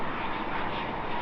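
A British Airways Boeing 777-200 in a special festival livery passes at London Heathrow, its engines giving a steady, continuous broadband roar with no talk over it.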